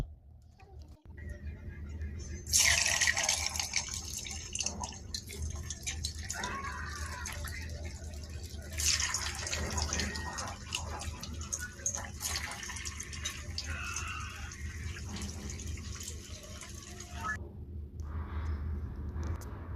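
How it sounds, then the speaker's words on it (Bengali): Potato balls slid one by one into hot oil, a broad steady sizzle and bubbling that swells loudly at each drop and holds through the clip, with faint clinks near the end. "আলুগুলোকে একটা একটা করে তেলে ছাড়বো"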